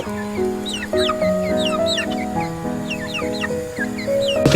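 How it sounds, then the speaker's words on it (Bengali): Tiger and Brahma chickens call and cluck in overlapping bursts, a busy poultry yard chorus close by with no talking. "আমার টাইগার মুরগি এবং ব্রাহ্মাগুলা"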